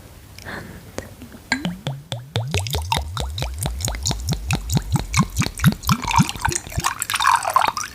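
Liquid skincare product glugs out of a bottle in a close, quiet spa-style ASMR setting, a rapid run of rhythmic gurgling plops that speeds up and softens into a wetter trickle.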